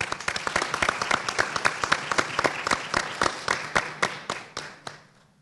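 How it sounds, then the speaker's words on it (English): Delegates at a model African Union assembly give a round of applause. Crisp, closely spaced claps fall in a near-rhythmic patter, then thin out and fade away over the last second. "Let's get another round of applause."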